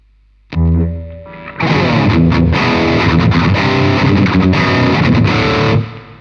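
Electric guitar strummed in rhythm through a Caline Jaguar distortion pedal set with scooped mids and boosted bass, opening with one sustained chord, then a loud dense chugging pattern that cuts off cleanly.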